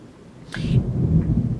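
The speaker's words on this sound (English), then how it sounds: "That was thunder." Thunder rolls in after a brief sharp crack, a low booming rumble that builds and sustains loudly through the rest, with no talking over it.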